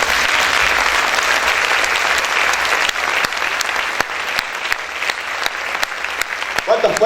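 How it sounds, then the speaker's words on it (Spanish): A church congregation bursts into loud, sustained applause during a Spanish-language worship service, with dense clapping filling the whole stretch and a few sharper claps near the end. "Vamos a aplaudir fuerte."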